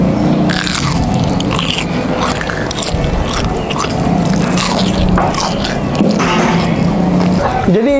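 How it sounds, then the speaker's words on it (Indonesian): Crunchy bites into a Fiesta Crispy Bubble Nugget filled with chicken, close-up crackling chews and squishes while a voice talks over them. "Ini Fiesta Crispy Bubble Nugget renyah banget di setiap gigitan"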